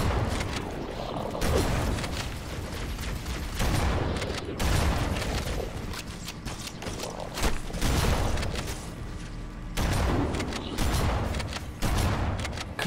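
Repeated heavy gunfire bursts in the video game Halo Anniversary, loud booming blasts with rumbling tails coming every second or two, with dense battle noise between them and no talking.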